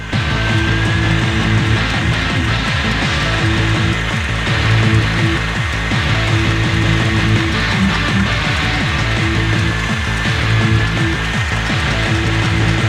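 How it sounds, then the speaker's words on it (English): A stand mixer whips egg whites at higher speed for Italian meringue, a loud, steady motor whir with a rhythmic whisk clatter running unbroken throughout, with no talking. "I'm going to speed up the machine a little bit, and I get my egg whites nice and foamy."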